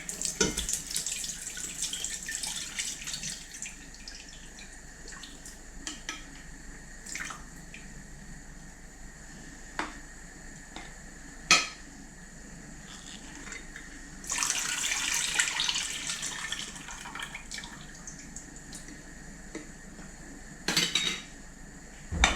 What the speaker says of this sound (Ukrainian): Минуло 15 хвилин, водичку зливаємо в кастрюльку.